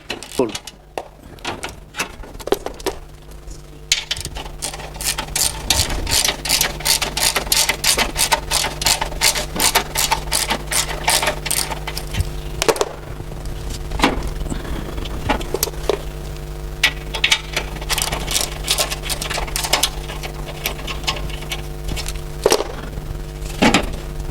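Cover being removed from a car suspension stabilizer bar, a run of sharp metallic clicks, clanks and ratcheting knocks at close range, irregular and loud over a steady low hum.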